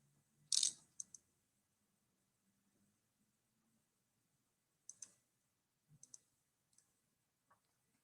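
A computer mouse clicks on a quiet desk: one louder double click, then a handful of sparse, light, close clicks spaced a second or so apart, with near silence between them.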